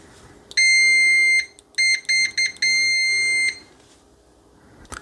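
A cheap T58C multimeter fitted with Probe Masters probes gives loud, shrill continuity beeps up close: one long tone, then a quick cluster of short chirps, then another sustained beep.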